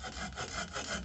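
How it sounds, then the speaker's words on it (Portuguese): A multifunction bow saw cuts wood against the grain with rapid, rasping back-and-forth strokes, close and clear, with no voices. "eu estou indo contra a fibra. Então ele demora mais a ser cortado"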